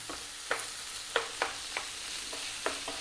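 Lamb pieces sizzle in a hot pan with onion for an Indian lamb lentil curry. A steady frying hiss runs throughout, broken by about eight short scraping stir strokes at irregular intervals, close and moderately quiet.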